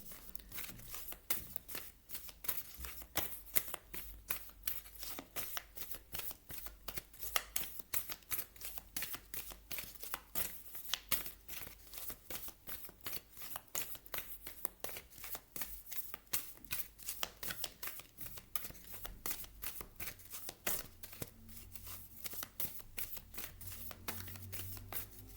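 Oracle cards are shuffled by hand over a long stretch, a quiet, continuous flutter of rapid papery riffles and soft slaps, close and without talk.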